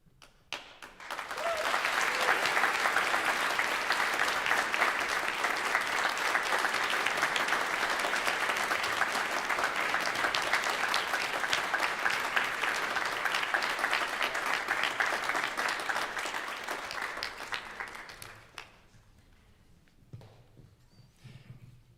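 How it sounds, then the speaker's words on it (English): Sustained applause from a seated audience honoring graduates at a conservatory hooding ceremony, dense and steady clapping that builds quickly, holds loud for about fifteen seconds, then fades to a quiet room. "If you'll join me in giving one more round of applause to all of our graduates today."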